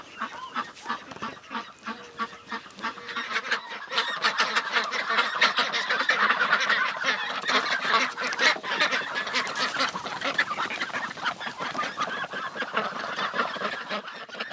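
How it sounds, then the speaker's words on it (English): Young ducks about six weeks old pour out of their pen on a homestead. A dense, continuous chorus of loud honking quacks builds and carries on for the whole stretch, close to the microphone, with no talking. "None of the ducks that we have can fly, so they will stay in this chicken moat area."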